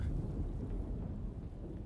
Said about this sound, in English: Looks like a storm's coming.